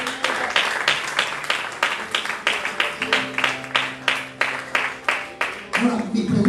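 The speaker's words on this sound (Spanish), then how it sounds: "Denle un aplauso al Señor" A church congregation claps in a fast, steady rhythm for the Lord, loud and sustained, with a voice and music underneath.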